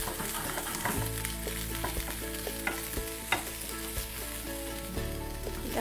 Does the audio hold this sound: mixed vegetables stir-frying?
yes